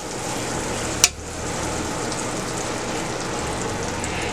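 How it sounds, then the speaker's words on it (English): Butter sizzles softly on a flat steel griddle grill top, a faint steady hiss interrupted once by a sharp clink of a utensil, with no talking. "put a little bit of butter here on the grill top"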